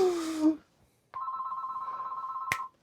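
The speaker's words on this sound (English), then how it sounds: "my phone rings a lot for whatever reason" A phone rings with a steady, buzzing electronic warble that lasts about a second and a half, coming after a brief stretch of speech, with a sharp click near its end.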